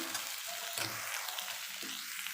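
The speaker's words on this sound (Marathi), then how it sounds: "आता ओल्या नाळ्याचं खोबरं वरून टाकत आहे आणि परत एकदा मिश्रण एकजीव करून घेणार आहे" Fasting potato bhaji with freshly grated coconut being stirred in a pan, a soft steady sizzle with a few quiet scraping strokes of the spoon, faint and without talk.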